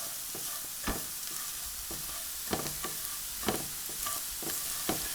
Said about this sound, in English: So continuously stir it so that it cooks evenly and the flavors just absorb into each other.